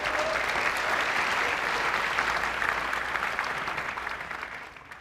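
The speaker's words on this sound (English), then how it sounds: "How about a round of applause for all of you who make this community so special?" A conference audience at the Webflow Conf 2025 opening keynote applauds in a dense, sustained wash of clapping that holds steady, then gradually thins and fades toward the end.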